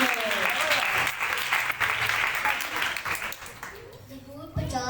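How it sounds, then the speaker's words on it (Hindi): Applause at a children's worship conference in Rawalpindi comes from a large crowd and fills the room with dense, steady clapping, while voices carry over it and the clapping fades toward the end. "जोरदार तालियां हैं।"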